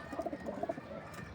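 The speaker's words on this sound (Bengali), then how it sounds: "এই হচ্ছে আমার নর কবুতরগুলো" Male pigeons cooing softly in a loft, several short soft coos in a loose cluster close by, then fading into quiet background murmur.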